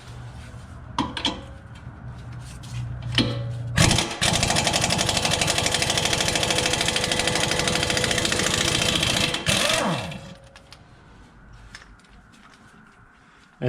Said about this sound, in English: As you can see, with an impact, it makes easy work